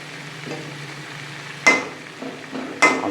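Potatoes and curry leaves frying in hot oil, a steady sizzle under two sharp stirring scrapes of a spoon against the pan, close and clear.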